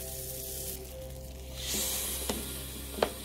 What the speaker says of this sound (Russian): Слышите, как все шипит?